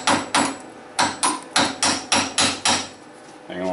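A hammer chips tough 6011 welding slag off a steel plate: eight sharp, evenly spaced metallic taps, close and loud, followed by a brief scrape at the end.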